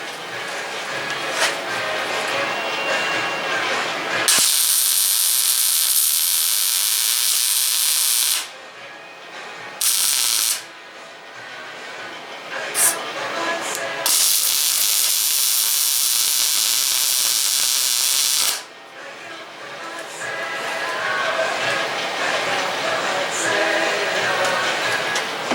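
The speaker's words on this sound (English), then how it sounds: "Gotta get used to my own welder again" Welding on the fender flange of a 1968 Triumph TR250 under restoration: loud, steady hissing bursts lasting several seconds each, separated by short pauses, with quieter workshop sounds between.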